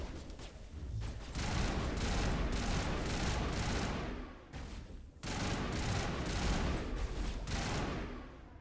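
Sustained automatic gunfire from a Mass Effect ambush on Geth troops, dense bursts of overlapping shots roaring almost continuously, with a brief lull midway before the firing resumes just as loud.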